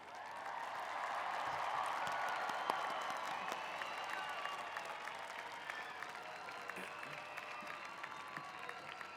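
A crowd at a university graduation ceremony claps steadily from some distance, a continuous patter of applause that holds throughout.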